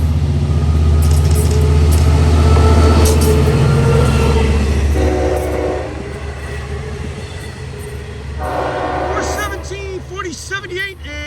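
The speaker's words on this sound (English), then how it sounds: "Pretty good sounding horn on 417 here." A Long Island Rail Road train, locomotive 417, rolls past loud and close with a steady rumble. Its horn sounds in short tonal blasts over the passing cars, and wheels squeal near the end.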